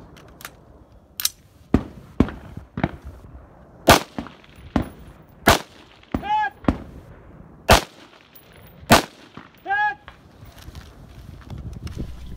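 Sharp gunshots ring out against steel silhouette targets at a 2-gun match, a dozen or so irregularly spaced cracks, with a couple of ringing metallic hits after shots, loud and close with quiet gaps between.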